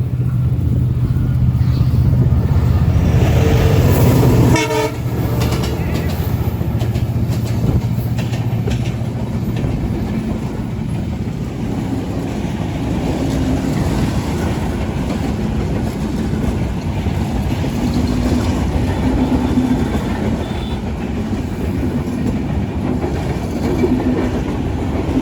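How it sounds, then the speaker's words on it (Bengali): A train pulls into Santahar station and rolls past, a loud horn-like tone at first giving way to a steady heavy rumble and clatter of wagons that continues throughout, close by. "ট্রেন আসছে।"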